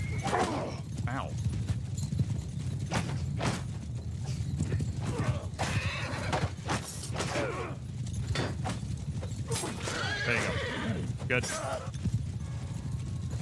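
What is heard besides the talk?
horse archers galloping and neighing in video game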